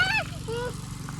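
A motorcycle engine labors up a steep mountain trail near the summit in Montalban, Rodriguez, Rizal, with a steady low rumble beneath people talking nearby.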